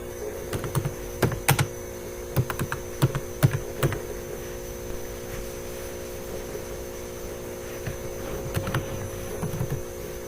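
Someone types code on a computer keyboard, producing clusters of light clicky keystrokes in short bursts with a pause in the middle, set against a steady electrical hum.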